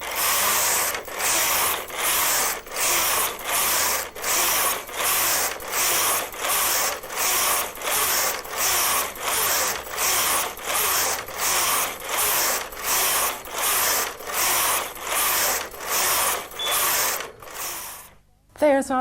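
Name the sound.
Brother KH-950 electronic knitting machine knitting a pattern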